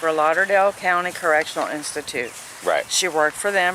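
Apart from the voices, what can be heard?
None of the usual background noises is heard.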